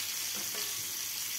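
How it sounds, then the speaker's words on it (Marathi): Marinated mackerel (bangda), coated in rava and rice flour for a Malvani fry, sizzles softly in hot oil as a brief, even, faint hiss with no talk. "अजून एक फ्राय करूचे मॅरिनेट केलेले बांगडे."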